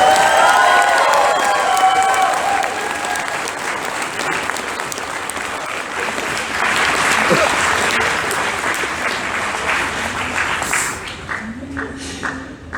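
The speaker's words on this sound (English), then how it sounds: "Alright, big round of applause." Dense audience applause and clapping at a Sakura Con 2019 anime convention stage event, loud and sustained before thinning out and fading near the end.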